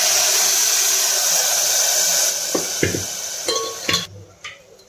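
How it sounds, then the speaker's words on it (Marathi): Mutton rassa gravy pouring into a pan of chillies fried in oil on a wood-fired stove sets off a loud, steady sizzle that fades after a few seconds into clinks of a spoon against the pan. "हे आपण जे रस्सा काढला होता तो रस्सा टाकतो"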